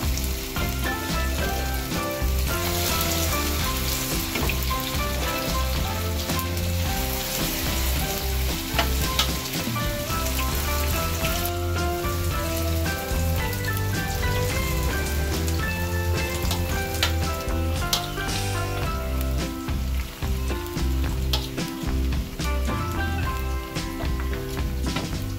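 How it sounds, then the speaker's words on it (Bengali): Spinach pakoras deep frying in hot oil give a dense, continuous sizzle and crackle that stays loud and steady throughout, with no talking. "প্রতিটি বড়াকে 2 থেকে 3 মিনিট করে ভাজতে হবে"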